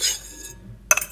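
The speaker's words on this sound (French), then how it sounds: "Maintenant, je mélange le tout avec une fourchette" A fork clinks against the side of a bowl while a salad is tossed, giving two or three short, bright metallic taps close up with a quiet pause between them.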